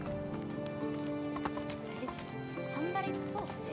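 Donkeys in the medieval life-sim game Medieval Dynasty clip-clop and bray in a steady, busy in-game soundscape, the animal noises mid-distance over ambient farm sounds.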